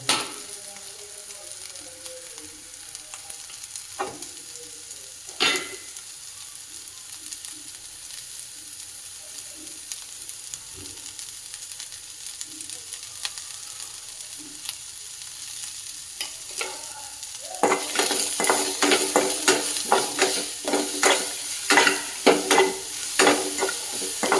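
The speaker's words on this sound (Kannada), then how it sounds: "ಈರುಳ್ಳಿ ಚೆನ್ನಾಗಿ ಫ್ರೈ ಆಗಲಿ" Onions frying with salt in a pan for a horse gram (alasande) curry, a quiet sizzle broken by occasional spoon scrapes, then louder rhythmic stirring and crackling in the final stretch; no talk.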